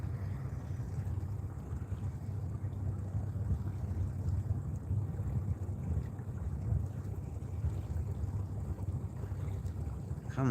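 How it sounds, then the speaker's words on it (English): A small fishing boat's engine running quietly, a low steady drone with wind buffeting the microphone over open water. "My engine sounds like a sewing machine, it's so quiet."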